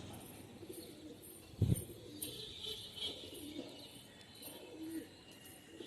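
Black Najra pigeons coo softly and at a distance over a quiet background, with a brief louder flutter or thump partway through and scattered faint chirps.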